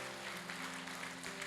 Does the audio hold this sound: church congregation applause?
yes